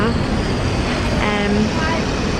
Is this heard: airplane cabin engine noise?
yes